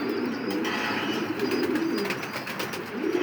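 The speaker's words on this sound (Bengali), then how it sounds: "এই যে আরেক জোড়া লক্ষ্মী কবুতর" Lakkhi pigeons coo steadily inside a pigeon house, a soft continuous cooing close by with faint chirps mixed in and no talk.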